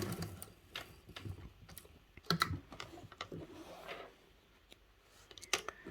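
Quiet, uneven bursts of a sewing machine reverse stitching a bag seam, with short clicks and taps between runs, close by and fairly faint.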